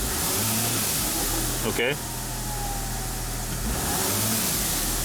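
A Mercedes/Dodge Sprinter van engine running while driving, steady mid-pitched drone with a brief quieter dip, heard close while a person speaks briefly over it.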